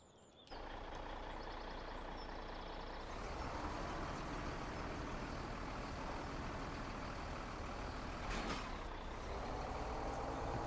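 Semi-truck in Farming Simulator 17 on an Appalachian mountain map, its engine a steady, continuous drone that swells slightly after a few seconds, with a brief hiss near the end, no talk over it.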